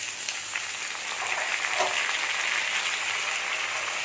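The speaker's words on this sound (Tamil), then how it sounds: "சூடாயிருச்சு. ஃபஸ்ட்டு வெங்காயத்தை போட்டுடலாம்." Onions frying in a hot pan for tomato chutney, a steady soft sizzle and crackle at moderate level throughout.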